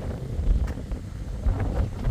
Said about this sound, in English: It's a bit windy still.